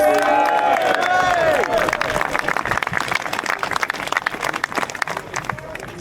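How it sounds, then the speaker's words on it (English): At a protest rally in Braintree, Essex, a crowd breaks into applause with some cheering, clapping rising to a dense patter and then thinning. A voice is heard over the opening moments. "Please give him a massive round of applause."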